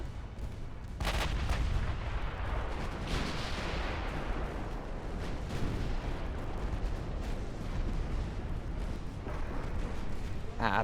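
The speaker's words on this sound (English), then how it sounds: "What the hell are these assholes shooting us with?" Enemy naval gunfire in the warship game Ultimate Admiral: Dreadnoughts, a dense, loud, continuous roar of booming shots and blasts that erupts after a second of quiet and keeps rumbling steadily with no break.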